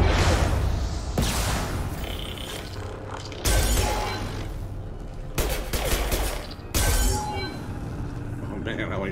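Gunfire in the video game Mass Effect Legendary Edition, with several loud bursts of shots and impacts in separate clusters, mechanical clatter between them and a voice talking over parts of it.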